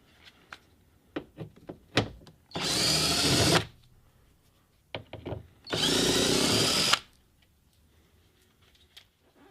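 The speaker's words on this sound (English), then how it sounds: "we're going to remove those 3 T30 screws again" Power tool whirring in two loud bursts of about a second each, removing T30 screws from a BMW F30 door panel, with scattered clicks and taps of handling between the runs.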